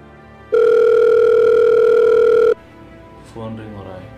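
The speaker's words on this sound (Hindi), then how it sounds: "फोन रिंग हो रहा है।" A telephone rings in a home with a single loud, steady electronic tone lasting about two seconds, then stops and a voice begins speaking.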